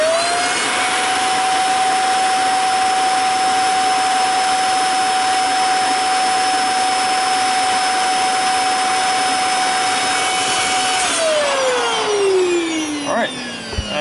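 A Hoover Air vacuum cleaner runs loud and steady with a high whine and broad rushing airflow for most of the stretch, then the motor pitch sinks as it spins down near the end.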